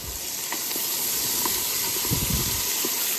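Onions searing in a pot over beef fond left from browned meat, a steady loud hiss and sizzle throughout with faint clinks of a utensil scraping the pot.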